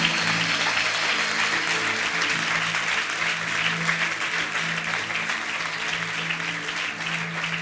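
A church congregation claps in praise during a service, steady crowded applause with a low sustained musical tone underneath, continuing evenly throughout at moderate volume.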